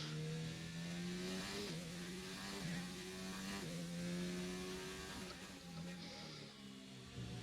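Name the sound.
F1 2019 video game race car engine revving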